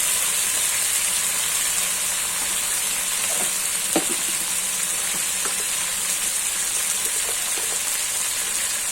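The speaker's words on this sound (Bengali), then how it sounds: "হালকা করে নাড়াচাড়া দিয়ে নেবো, সর্ষে তো বেশি ভাজা যাবে না।" Mustard paste with chili and cumin paste fries in a pan, giving a steady close sizzle throughout, with occasional soft clinks and scrapes as it is stirred.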